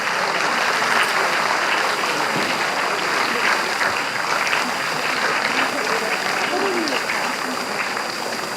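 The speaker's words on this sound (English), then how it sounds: "I think they need a bigger round of applause, dear parents." An audience of parents at a state-level abacus arithmetic contest claps steadily throughout, a dense, even wash of applause filling the hall.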